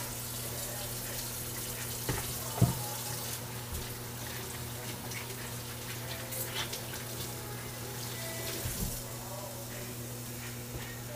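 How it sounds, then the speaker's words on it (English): Hands are washed under a running kitchen tap, the water a steady close hiss with small splashes and clinks, while a low mains hum runs underneath and faint background voices come through. "Give our hands a quick wash here."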